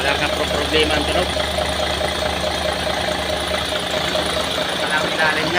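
An overhauled V6 engine idles steadily at close range, a continuous even rumble with faint mechanical ticking and no pauses throughout.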